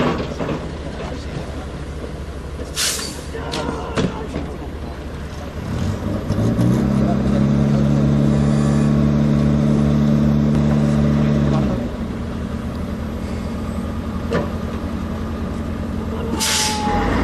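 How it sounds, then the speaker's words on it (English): Scania tow truck towing a Bofors gun, a heavy diesel engine rumbling with a loud, steady drone in the middle of the stretch, sharp hissing air-brake bursts near the start and end, with voices in the background. "You will now see the Bofors gun towed by a tow truck called the"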